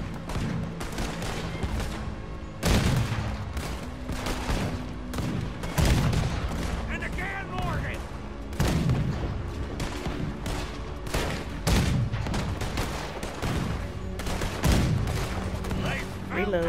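Gunfire in Red Dead Redemption 2, shots aimed at a big boat: steady volleys of loud shots with a heavy boom roughly every three seconds over a dense battle din.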